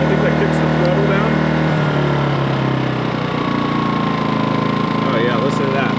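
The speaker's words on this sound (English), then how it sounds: "That throttles the motor down till there's a demand on it." A Harbor Freight Predator portable generator runs in eco mode with its throttle lowered, a loud, close, steady engine drone, with someone talking over it.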